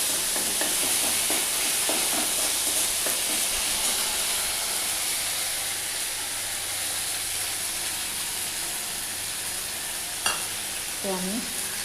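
Ginger-chilli paste fries in a pan with a steady, close sizzling hiss, broken by a few light scraping stirs and a brief clink near the end; no one speaks.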